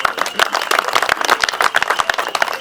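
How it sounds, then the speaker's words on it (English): Applause from a dinner audience at a Munyonyo jubilee gathering: dense, steady clapping from many hands, fairly loud and continuous throughout with no pauses. "Please, a resounding round of applause for all of them."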